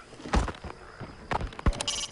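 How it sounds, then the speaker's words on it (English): Goats bleating in the video game Metal Gear Solid V, several wavering animal calls at moderate distance over a soft ambient background with a few dull thuds. "There are goats around."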